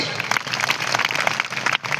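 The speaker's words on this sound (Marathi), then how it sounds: "एकदा जोरदार टाळ्या वाजवा स्वतःसाठी" A seated audience at a motivational speech applauds loudly and steadily, a dense wash of many hands clapping together that dips briefly just before the end.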